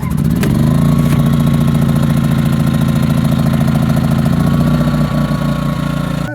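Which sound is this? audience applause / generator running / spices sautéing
generator running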